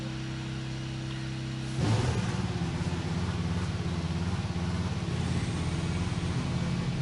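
An F1 racing car in a video game pulls out of the garage during a rainy Brazil race. A steady low idle hum gives way to a sudden louder engine rumble that carries on close and continuous.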